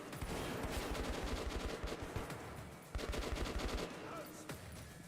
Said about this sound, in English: Oh, there's people freaking shooting at us?